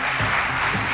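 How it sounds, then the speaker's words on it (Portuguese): Dense applause from a live television studio audience fills the whole second, loud and steady, welcoming two contestants onto a late-night comedy show. "Uma grande salva de palmas para Luís Miguel Pereira e Pedro Soares."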